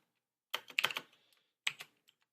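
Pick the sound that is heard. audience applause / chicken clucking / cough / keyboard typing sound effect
keyboard typing sound effect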